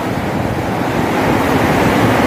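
Loud, steady roar of rushing water at the Koshi Barrage dam in Nepal, a dense broadband wash with no breaks, like a torrent pouring through a dam.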